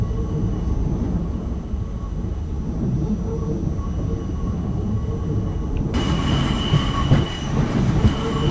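An ICM train rolls into Amsterdam Central station with a constant rumbling roll, thin high-pitched wheel squeals and brake tones, and a brighter metallic hiss joining near the end.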